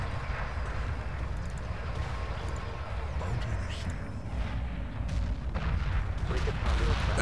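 A destroyer explodes in the Homeworld space strategy game, a steady rumbling barrage of booms and blasts rolling on through the stretch, with someone talking over it.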